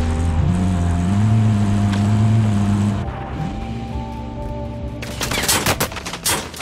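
Call of Duty Warzone gunfire, a dense crackle of rapid shots bursting in near the end after a steady droning vehicle engine hum, loud and close.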